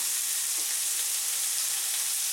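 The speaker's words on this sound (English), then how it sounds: "when we fry this about 30 seconds, 1 minute, depending on how much you have" Boiled eggs and sundried tomatoes stir-fry in a pan with a steady, close hiss of sizzling oil, broad and even throughout, with no voices.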